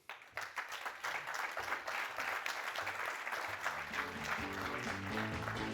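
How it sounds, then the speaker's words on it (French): Audience applause at an entrepreneurs' pitch event, swelling quickly after a quiet start into sustained clapping, with faint music entering underneath toward the end. "Messieurs, dames, applaudissez Gilles Sixou."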